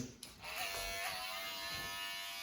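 Electric hair clippers fitted with a number 3 guard run steadily while cutting a boy's hair at home, a close continuous buzzing hum that starts after a brief click and holds level throughout.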